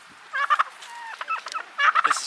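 Agitated poultry calls from a small chicken attacking a person, a few sharp rapid clucking bursts in two clusters with quieter scratchy sounds between, close by.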